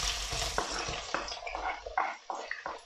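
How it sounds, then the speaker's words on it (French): Onion drops into a hot pan and fries, a bright steady sizzle broken by stirring scrapes and short spattering bursts, close and fairly loud. "Du coup, on va mettre l'oignon."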